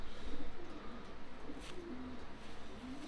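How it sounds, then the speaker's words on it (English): Racing pigeons in a loft cooing softly, a low repetitive cooing over a steady background hum with no talk. "Yeah, beautiful bird, Triple King."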